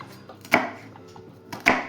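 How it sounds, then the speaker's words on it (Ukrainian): A knife chops an onion on a cutting board while preparing ossobuco, with two crisp, separate chops a little over a second apart against a quiet room. "Спочатку треба нарізати цибулю."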